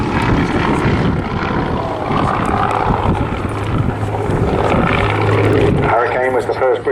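A Hawker Hurricane propeller fighter flying at an airshow, a loud droning engine roar with a steady low hum, a voice commentating over it throughout.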